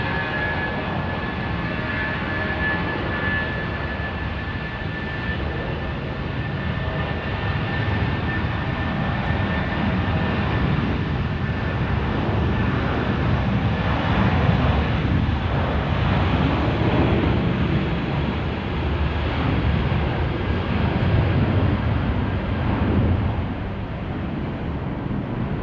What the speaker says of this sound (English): There we go, Jetstar 848 off to Hamilton Island. Well, like to be going there today. Rolling now, 16 right